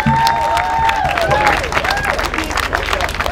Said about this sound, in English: Can we all give Ruben one more round of applause?